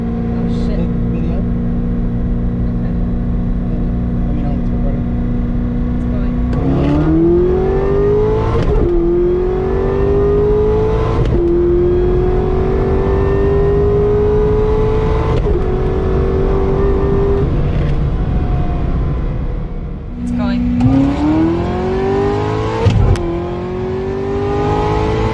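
A 2009 Corvette ZR-1 running on pump gas pulls hard from 60 to 130 mph, its engine note climbing through several upshifts in a loud, continuous in-cabin roar, with a voice heard briefly over it.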